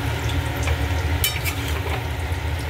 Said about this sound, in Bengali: ভালো করে নেড়ে দিই।